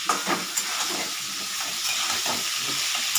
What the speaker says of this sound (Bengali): হালকা মতো একটু ভেজে নিই